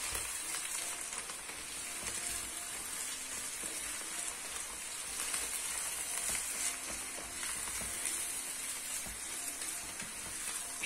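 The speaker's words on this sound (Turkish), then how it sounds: "Maydanozu da bir tur çeviriyoruz." Chopped onions and parsley fry in a pan with a steady, dense sizzle that never lets up, stirred now and then with faint scraping and clinks. No one speaks.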